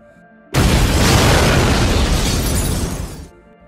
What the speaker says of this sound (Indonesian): tiba-tiba saja peluru granat itu meledak dan membuat mobil mereka harus rusak.